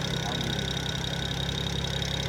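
Engine of a 1973 Oldsmobile 455 with a loud turbo running steadily, a dense, close drone with a constant high whine over a low rumble.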